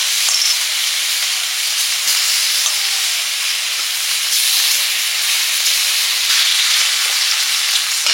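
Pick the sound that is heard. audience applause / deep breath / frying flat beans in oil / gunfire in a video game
frying flat beans in oil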